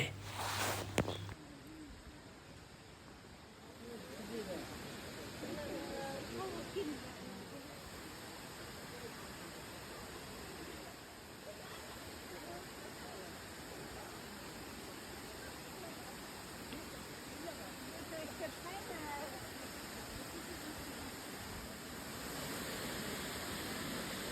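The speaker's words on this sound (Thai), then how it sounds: "บรรยากาศน้ำตกตาดงามหลายเนาะมาเท่าใดก็งามเท่านั้นเลยเนาะ" Tad Ngam waterfall in Laos, running with low but clear water, gives a steady broadband rushing hiss that continues throughout at moderate distance, with faint voices and movement over it.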